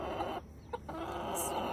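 Small backyard flock of about eight hens and two roosters around sixteen weeks old, clucking softly and steadily at close range with a few brief calls standing out, no talking over it.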